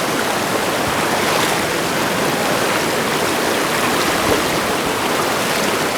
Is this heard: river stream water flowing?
yes